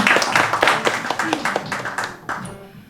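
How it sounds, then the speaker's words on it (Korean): Audience applause at a jazz concert by a jazz band at an arts concert on Bukseong-ro, a dense wash of clapping across the whole stretch that thins out near the end, with voices mixed in. "다시 한번 박수 부탁드립니다."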